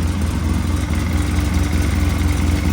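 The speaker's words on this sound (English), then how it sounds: "But the engine's sounding good." A Polaris RZR 800 side-by-side engine, newly reassembled with heavy assembly lube after sitting for years, idles steadily up close with a constant low mechanical drone and no pauses.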